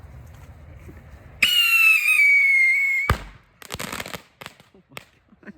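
An electro streak ground firework fires outdoors on New Year's with a loud, sustained whistling shriek lasting about a second and a half, then ends in a sharp bang followed by a burst of crackling pops.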